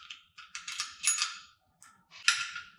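A bolt being tightened during assembly of a Jane 90 frame gives bursts of quick, close ratcheting clicks with brief pauses between them.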